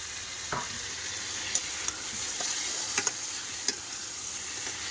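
Potatoes and meat sizzling with spices in a hot pan, a steady frying hiss broken by several sharp clinks of a spoon stirring against the metal.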